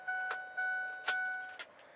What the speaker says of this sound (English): Let me take this key out.